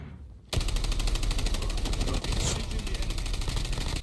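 Video game gunfire, a sudden loud burst of rapid automatic shots that carries on continuously after a brief quiet start, close and dense throughout.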